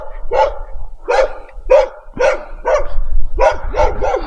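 A dog barks nearby in a run of about eight loud, evenly spaced barks with short pauses between them. No one speaks.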